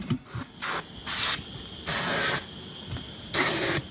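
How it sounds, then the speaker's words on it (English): Starter fluid hisses from an aerosol can onto a tire valve stem during a repair, in six or so short, loud spray bursts separated by brief gaps. "Little starter fluid."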